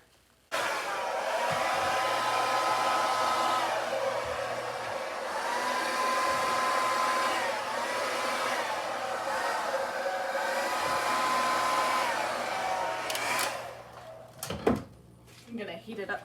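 A hair dryer blows steadily across a poured acrylic Dutch pour in neon pink and white, a loud continuous whir lasting most of the stretch before cutting off near the end; a low hum and faint voice sit underneath.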